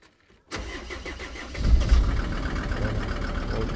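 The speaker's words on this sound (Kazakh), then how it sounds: "Газ баспай, не қылмай. Әдемі оталып тұр." A SsangYong Rexton that had refused to start for eight months cranks briefly, catches and settles into a steady, loud idle without throttle.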